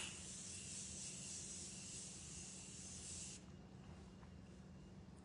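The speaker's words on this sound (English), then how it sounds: "But I'm going to go ahead and spray my face." Morphe setting spray misted onto a face, a steady close hiss lasting about three seconds before cutting off, leaving quiet room noise.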